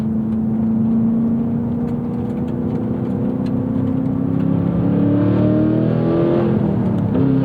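A 2024 Cadillac CT5-V Blackwing engine revs hard under acceleration, loud and close, with its pitch climbing steadily through the gear, then dropping briefly at a manual shift before pulling again.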